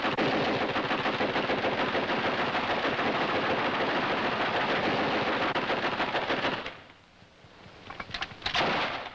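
Rapid sustained gunfire rattles on a military firing range, a dense, loud burst of machine-gun shots lasting several seconds before cutting off, followed by a few scattered clanks.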